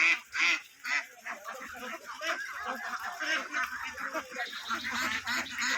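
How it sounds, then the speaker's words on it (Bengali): Ducks at a duck farm call in a noisy overlapping chorus of honking quacks, fairly close and continuous, with a voice talking faintly in the background. "এই যে হাঁসের ডাক শুনতে পাচ্ছেন"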